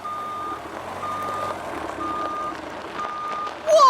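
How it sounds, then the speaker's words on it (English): A big green dump truck at a construction site sounds steady, evenly spaced reversing beeps over a low engine rumble, loud and near, with a brief sharp squeal at the very end. "It's a big, green dump truck."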